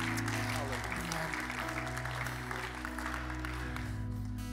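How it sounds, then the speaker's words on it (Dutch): A church congregation claps together in sustained applause during a worship service, steady and fairly loud over a low droning organ or keyboard chord. "let's put our hands together and thank the Lord"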